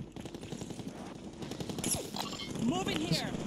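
Gunfire crackles in a Call of Duty Warzone battle-royale match, with bursts of shots and sniper fire around the player. The shots come in rapid rattling sequences under steady in-game noise, and a voice speaks over them.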